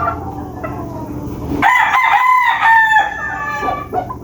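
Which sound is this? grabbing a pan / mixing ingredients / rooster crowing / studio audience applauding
rooster crowing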